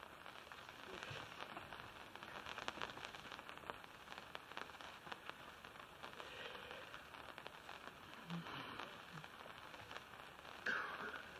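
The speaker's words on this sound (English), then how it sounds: "It's raining." Rain falls outside, a soft, steady patter and hiss that continues throughout, faint and distant, with no talking in the clip.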